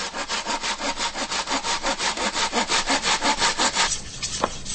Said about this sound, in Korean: 똥물을 만들려면 먼저 대나무를 2마디 크기로 잘라 끝을 날카롭게 자른다.